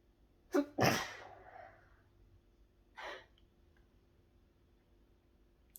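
A single person sneezes with a sharp catch of breath and then an explosive burst, followed a moment later by a smaller sniff or exhale in a quiet room.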